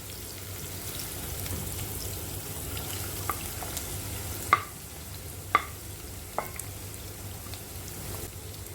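Sliced onion and carrot sauté in a pan with a faint, steady sizzle, punctuated by a few sharp taps of a spoon stirring, close and without talk.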